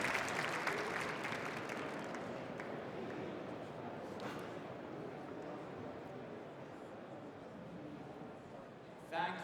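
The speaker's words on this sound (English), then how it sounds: "Please give him a big round of applause." Applause rises for a speaker at a large startup conference's founder stage, loudest in the first couple of seconds, then settles into a lighter, sustained clapping and crowd murmur, with a brief bump near the end.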